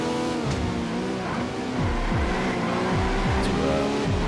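Alfa Romeo race car engines roar in a two-lap racing game event, a steady loud drone with repeated rising revs as gears shift, a fairly close and continuous whine with no one talking.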